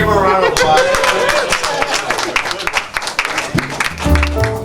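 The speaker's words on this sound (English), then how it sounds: "give him a round of applause" Improv theater audience clapping and cheering, dense applause from a crowd that swells and fades, with a voice speaking over it near the end.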